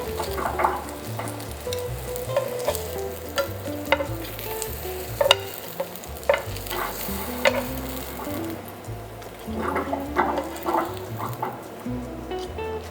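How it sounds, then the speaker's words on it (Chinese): Apple slices and bread fry in butter in a pan, a steady close sizzle broken by scattered sharp clicks and scrapes as the pieces are stirred and turned. "把苹果煎一下。 面包两面煎烤一下"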